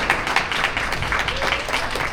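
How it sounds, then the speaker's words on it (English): An audience claps steadily throughout, a moderate even patter of many hands at a religious gathering. "A big round of applause again"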